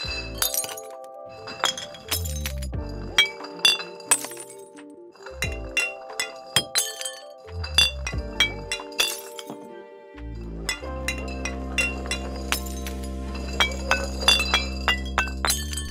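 Glass bottles roll down LEGO stairs made of smooth 2x4 tiles, clinking and chiming in rapid rattling bursts separated by brief pauses, bright and close, ending in a denser run of ringing glass knocks.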